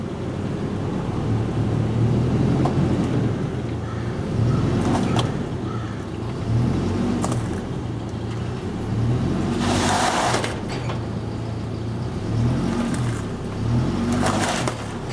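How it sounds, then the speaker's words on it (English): A truck idles and backs up slowly to hitch a utility trailer in a driveway, a low steady engine rumble with a few brief louder bumps, heard alone without talk. "I'm going to back up here until she goes clunk"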